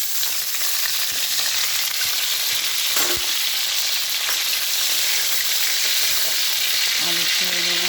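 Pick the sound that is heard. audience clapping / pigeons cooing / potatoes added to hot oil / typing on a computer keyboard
potatoes added to hot oil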